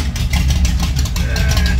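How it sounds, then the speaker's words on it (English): An old car's engine idles roughly through a dual exhaust, its lumpy cam giving a steady, loud low rumble close by with slight uneven pulses throughout. "Although the car sounds like it's running rough, it's the cam."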